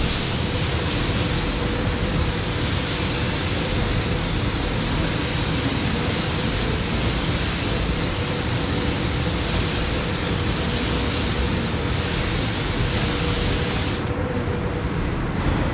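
A spray gun paints a Mercedes, its loud, steady hiss of atomized paint and overspray mist running unbroken and close throughout.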